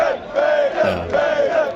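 A large concert crowd cheering and roaring in loud, swelling waves of massed voices.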